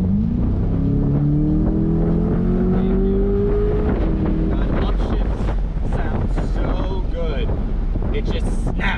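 A 2024 Chevrolet Corvette Stingray convertible engine climbs in a rising rev while driving, then settles under loud, constant wind rush and road noise.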